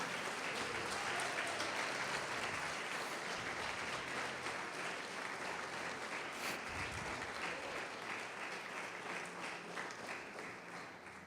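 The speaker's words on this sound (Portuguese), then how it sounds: "Quantos podem aplaudir o Senhor Jesus e glorificar?" A church congregation applauds in praise during a Portuguese-language worship service, a steady, dense wash of many hands clapping that holds evenly for the whole stretch and thins slightly toward the end.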